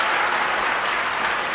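Brief, steady burst of audience applause at a numbers game show finale, an even wash of many hands clapping with no voices over it.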